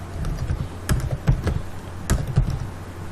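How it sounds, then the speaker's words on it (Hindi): A computer keyboard clatters with scattered key taps and a few heavier strikes, close and moderately loud, in an irregular rhythm with no one talking. "ये मैंने एक टेक्स्ट टाइप करा"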